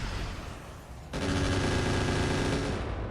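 Anti-missile system in the RogueTech mech game firing a sudden, sustained burst of rapid gunfire that starts abruptly and rattles on steadily at close range, with no voices over it.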